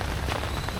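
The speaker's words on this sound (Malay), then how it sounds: "Dari pukul 6 pagi tadi hujan sampai sekarang dah dekat 6 petang" Steady, dense rain falling nonstop on a dull evening at a resort in a town between Krabi and Phuket, a continuous close hiss with no talking.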